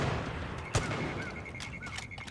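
A single sharp gunshot in Far Cry 5, a quiet crack standing out once against a low, steady background of game ambience.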